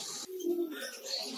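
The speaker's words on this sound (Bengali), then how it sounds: "দেখেন কত সুন্দর করে কবিতররা বাঁকতেছে।" A pigeon cooing in a backyard bird colony, one short, soft, close call with a few faint chirps from smaller birds around it.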